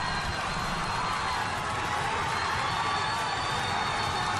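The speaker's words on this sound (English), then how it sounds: "The crowd are actually going wild" A large crowd at an EFC 72 MMA fight roars and cheers in a constant, loud, dense wall of noise with no break.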